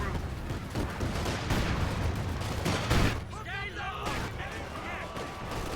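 A Panzerwerfer rocket barrage in the strategy game Company of Heroes: a dense run of rolling blasts and crackling impacts mixed with rapid gunfire, loud and continuous throughout the battle scene.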